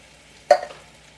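Diced tomatoes, two cans' worth, hit a pan with a single short sizzling stir: one sharp burst that quickly trails off into a faint fizz in a quiet home kitchen.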